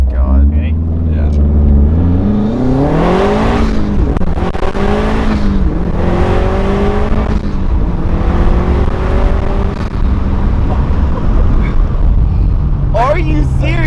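A widebody Subaru STI-swapped car accelerates hard through the gears, its engine note climbing and dropping with each shift, loud and close, with people talking and reacting over it.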